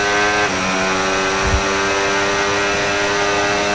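F1 racing cars in the F1 26 video game roar close by with a steady high-pitched engine whine, one car shifting tone early and a brief low thump midway.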